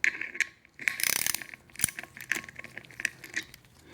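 A hand ratchet clicks in quick uneven bursts while tightening a bolt on an OMC Cobra water pump adapter, close and crisp with short pauses between strokes.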